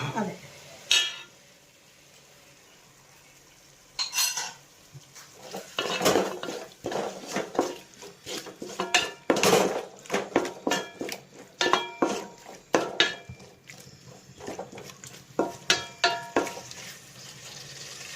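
Chilli chicken being tossed with sauces in a pan over high flame: a metal spoon scrapes and clanks against the pan in bursts of quick, irregular strokes, loud and close, with brief quiet gaps and no talk.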